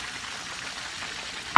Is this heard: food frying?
yes